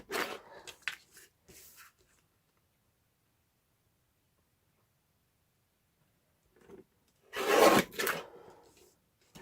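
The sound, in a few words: small see-through paper guillotine trimming a card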